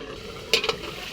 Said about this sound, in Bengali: নাড়াচাড়া দিয়ে সুন্দর করে নাড়াচাড়া করে দেব।